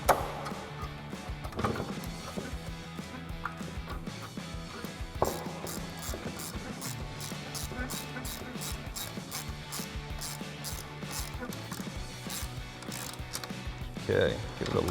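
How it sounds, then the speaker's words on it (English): A hand ratchet snugging down a bolt on an L bracket during a cold air intake install on a 2012-2018 Jeep Wrangler JK, giving rapid rhythmic clicking bursts close by with a few knocks, fairly quiet, no voices. "I'm actually going to use my ratchet to tighten that down a little bit better"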